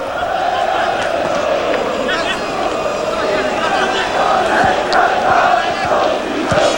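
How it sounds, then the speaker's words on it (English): Large stadium crowd at a Poland vs England football World Cup qualifier, a broad continuous roar of thousands of voices with swelling chants and shouts, with a commentator talking over it. "Big crowd here."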